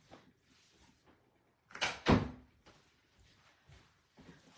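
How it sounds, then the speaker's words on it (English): A door being shut indoors, a sharp loud thud with a quick second knock near the middle, set against faint rustling and background noise; no speech. "let me shut this door"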